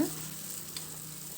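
Tomato pieces sizzle softly in a pan for a curry, a quiet steady frying hiss with a faint stir or clink partway through.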